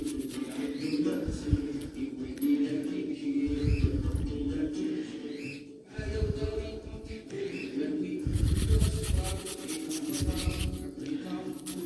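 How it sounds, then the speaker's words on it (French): Garlic cloves rubbed against a grater for a stuffed courgette filling with minced meat and cheese, giving repeated rasping strokes in bursts with short pauses, fairly close, over a steady low background hum. "je vais râper 2 gousses d'ail"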